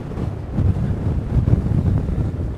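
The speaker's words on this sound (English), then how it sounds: "The waves are okay, but they're a little bit messy" Wind buffets the microphone at Famara beach on a messy surf day, with a low, rumbling wash of ocean waves beneath, loud and close, gusting unevenly with no talk.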